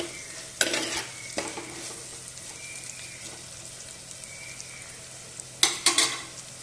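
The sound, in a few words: bitter gourd frying in a pan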